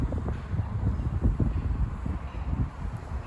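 Gusty wind buffets the microphone in low, uneven rumbles that rise and fall continuously, with no voices present, outdoors at a garden centre.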